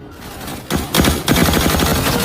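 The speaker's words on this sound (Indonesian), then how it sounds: "Nick lebih marah dan mencoba memberantas anak buah Django dan menembakinya dengan brutal" Brutal gunfire erupts in a mafia film scene, a loud dense barrage of rapid shots that starts abruptly and continues in sustained bursts.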